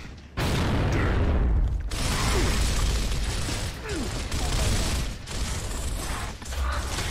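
A grenade explodes in Gears of War, a loud broadband boom that erupts after a brief quiet start and rolls on as a sustained rumble, with mechanical clatter and further bursts layered through the following seconds.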